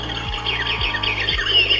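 A cuckoo-style alarm clock's mechanical bird gives repeated bright chirping squawks in quick succession, loud and close, over a low repeating mechanical thump from the clock.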